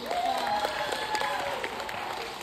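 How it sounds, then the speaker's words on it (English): A theatre audience at a family magic and comedy show claps together to vote, a dense burst of applause from a crowd that holds steady and then slowly thins. "If you think she should marry the dragon,"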